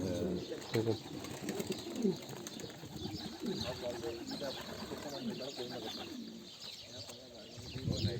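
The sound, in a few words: domestic pigeons cooing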